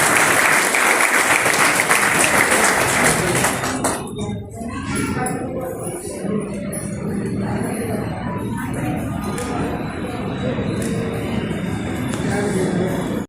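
A crowd at a Datta temple Guru Purnima gathering applauds loudly, dense clapping that drops off after about four seconds, followed by chatter, shuffling and faint clinking of dishes.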